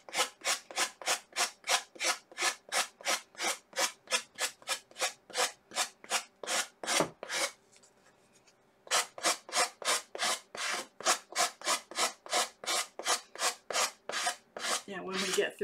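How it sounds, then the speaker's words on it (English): Wood is hand-sanded for Easter home decor in steady back-and-forth rasping strokes, close and rhythmic, with a brief pause partway through before the strokes resume. "Yeah, when we get through sanding this"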